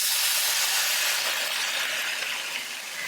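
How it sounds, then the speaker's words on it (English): A steady, bright sizzle hisses continuously at an even loudness as soup fries hard in a hot pan. "It's gonna sizzle, I hate this!"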